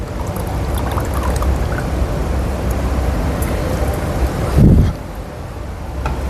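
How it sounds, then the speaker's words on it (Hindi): Water poured into a drinking glass during an alkaline water demonstration, heard as a continuous trickling wash over a busy background, with a brief louder gush near the end before it settles back. "आप अपने हिसाब से जिस मर्जी गिलास में पानी डालो"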